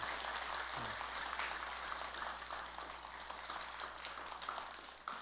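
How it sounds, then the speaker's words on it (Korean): Audience in a Buddhist temple hall applauding after a solo haegeum performance, a faint, steady wash of clapping that continues evenly throughout, heard from a distance. "큰 박수 한번 부탁드릴게요"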